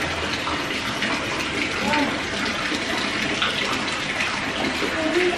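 Water runs steadily from a tap or shower, a constant rushing hiss heard close and loud throughout, with people talking over it.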